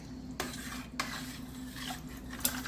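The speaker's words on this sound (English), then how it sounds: "And then we're going to give it another stir." Chicken soup with vegetables and parsley stirred in a pot, with a spoon scraping and clinking against the pot over a low steady background, close and fairly soft.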